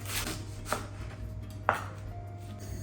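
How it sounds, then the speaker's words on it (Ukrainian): Two sharp knife chops cut leek on a cutting board, spaced apart, quiet over a low background hum. "Цибулю порей розрізаю навпіл, добре промиваю, нарізаю кільцівцями"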